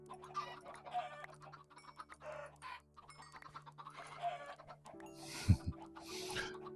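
Chickens clucking and crowing in the video game TerraFirmaCraft, several soft clucks scattered through the scene and a louder burst near the end, with faint game clicks in the background.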